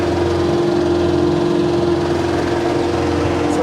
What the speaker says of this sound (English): Hopefully y'all can hear me with this tractor running like crazy